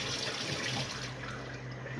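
Water is poured into a container to make dough for a high-protein flatbread. It makes a steady, close splashing, like liquid running from a tap, with no talking over it.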